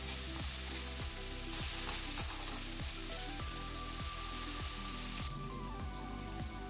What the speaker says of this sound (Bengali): আলুটা কিছুক্ষণ আমি একটু ভেজে নেব